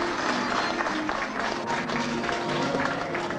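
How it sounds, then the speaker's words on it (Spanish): A small audience in a care home applauds an occupational therapist with steady, moderate clapping that holds at an even level throughout and has a faint murmur of the crowd beneath it. "a quien le vamos a dar un fuerte y extensivo aplauso"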